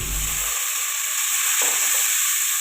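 Urad dal crackling in hot oil in a pan, a steady bright sizzle running throughout, close and fairly loud, with a brief low thump at the very start.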